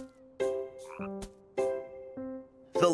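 Frog croaks in several loud, close, resonant calls in a loose rhythm, each a deep throaty pulse, with a brief higher squeaky call between them, in a children's story setting.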